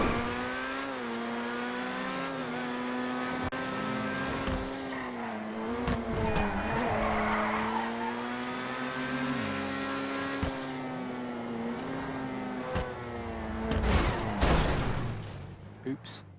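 A Grotti Itali GTO, modeled on the Ferrari 812 Superfast, drives through countryside in GTA with a steady high-revving engine drone, shifting pitch, and brief tire skids near the end; a voice talks over it throughout.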